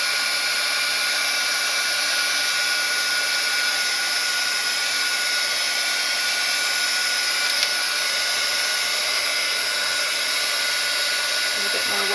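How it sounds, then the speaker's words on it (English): A blow dryer runs continuously at close range, a loud, even whooshing drone that holds steady throughout without pause. "I'm going to come in again with the blow dryer,"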